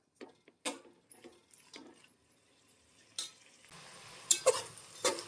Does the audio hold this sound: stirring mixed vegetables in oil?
yes